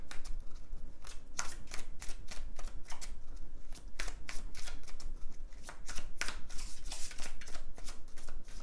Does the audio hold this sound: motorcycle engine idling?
no